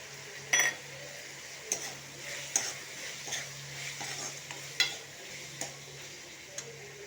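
Kadala curry masala with turmeric and salt sautés quietly in a pan under a soft background sizzle, with a spoon clicking and scraping against the pan at irregular intervals and no speech.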